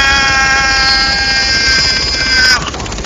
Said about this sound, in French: je suis en train de mitrailler un hélico